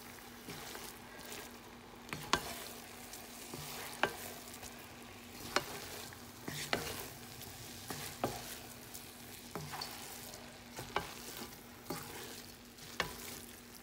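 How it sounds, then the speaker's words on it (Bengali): Rice being mixed into chicken curry in a pot for biryani, a low simmering sizzle under regular scraping strokes of a spoon every second or so, close and without speech. "চিকেন দেওয়ার পরে এখন আমি রাইসগুলা চিকেনের সাথে মিক্স করে দিচ্ছি"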